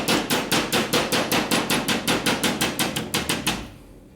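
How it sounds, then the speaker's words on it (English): Rapid, steady series of about sixteen loud metallic hammer blows on a 1958 Harley-Davidson Panhead 74ci motorcycle part being straightened, evenly spaced and close, ending with a short ringing decay. "Look at my hammer."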